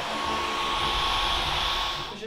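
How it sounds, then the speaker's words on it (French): A Dyson vacuum cleaner runs indoors in an apartment with a steady, loud, airy whine that holds constant before easing off at the end, with no talking. "Je suis obsédée par cet aspirateur."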